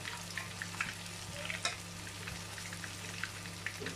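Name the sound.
grated potato galettes frying in a pan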